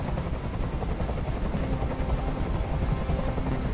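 A continuous, loud rumbling chop of a helicopter in the video game Detroit: Become Human fills the clip, dense and steady with rapid beating, like an aircraft passing close overhead.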